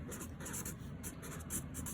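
A pen or marker scratches across a surface in short, steady strokes, faint and close, with no voice.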